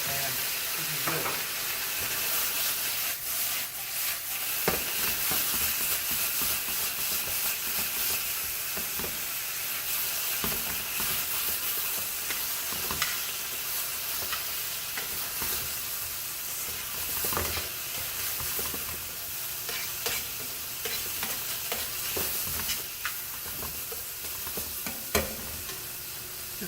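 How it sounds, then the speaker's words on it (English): White wine sizzles and hisses steadily in a hot pan, with frequent clicks and scrapes of stirring throughout. "You hear a good sizzle once you get that in the pan."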